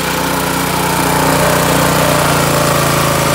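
Honda GX200 small engine, recently repaired after a broken cam, running at a high idle, a loud, close, steady putter with an even rapid pulse and no voices.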